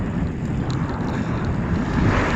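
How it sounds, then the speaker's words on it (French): Strong east wind buffeting the microphone while cycling on a quiet rural road in early warm weather, a steady loud low roar with gusts swelling near the end, no voices. "Mais vous l'entendez sûrement, hein. Avec le vent qu'il y a, on a un vent d'est là."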